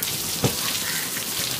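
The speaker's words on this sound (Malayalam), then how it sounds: "മഴ പോലെ നമ്മ പൈപ്പിൽ നിന്ന് മോട്ടർ അടിച്ചിട്ട് മോട്ടറിൽ നിന്ന് വെള്ളം അടിച്ചിട്ട് മഴ പോലെ ആക്കിയേക്കാണ്" Water pumped by a motor through a pipe sprays down like artificial rain, a steady broad patter of drops with one brief louder splash.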